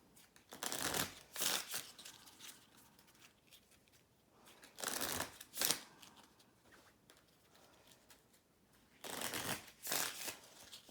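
Scattergories card decks are shuffled by hand in three distinct riffling bursts, crisp and close, separated by quiet pauses.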